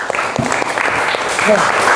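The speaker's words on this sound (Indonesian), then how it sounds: "Bisa diberi tepuk tangan temennya?" Students in a classroom clap for a classmate, a short burst of scattered applause mixed with voices and brief chatter.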